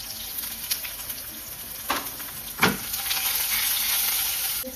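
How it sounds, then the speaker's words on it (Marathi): Hot oil tempering with curry leaves, green chillies, cumin and ginger gives a loud close sizzle with crackling bursts and a couple of sharp spits as ingredients go in, with no voices. "तडक्याचा झमझमाट घेतलेला आहे"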